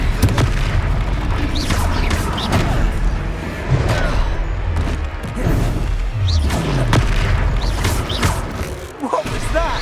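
In the Hogwarts Legacy video game, a Confringo fire spell goes off in heavy booming blasts that hit over a dense, loud battle din with rumbling impacts. Voices are briefly present in the mix.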